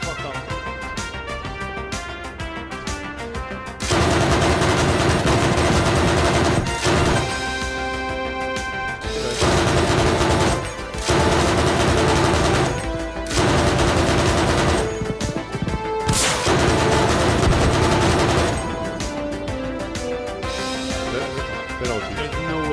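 Long bursts of rapid automatic fire from a Cobra helicopter in the video game Arma Reforger come in repeated sustained volleys. Loud game music or engine tones sound between them, and players talk over the action.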